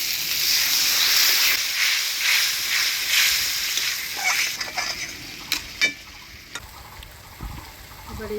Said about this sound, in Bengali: এবার অল্প জল দিয়ে মশলাটা ভালোভাবে কষিয়ে নিই।